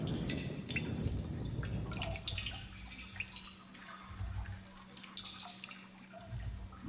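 Water drains and drips in the puzzle game Myst, a soft trickling and gurgling with scattered drips and a low steady hum, faint and continuous throughout.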